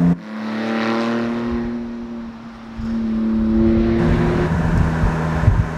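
Porsche 2.7 flat-six running without mufflers in a lightweight Boxster kart, a loud raw race-car exhaust note that holds a steady tone and then rises and revs, close by with no talking.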